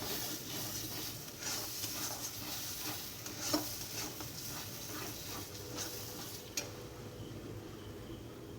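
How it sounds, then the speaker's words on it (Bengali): Water poured into a hot cooking pot during home village cooking for a household puja, giving a steady close hiss and sizzle with a couple of sharp metallic clinks and no voices. "এবার এর মধ্যে দিয়ে দেবো জল"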